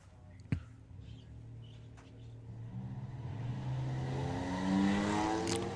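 Camaro and Mazda MX-5 drag racing at a national finals event: engines heard from a distance build in a rising, climbing roar under faint crowd and ambient noise, with a sharp knock near the start.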